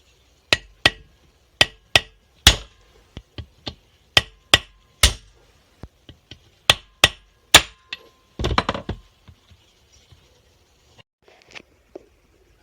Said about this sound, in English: we're going to take our ball peen and we're going to give this a few smacks,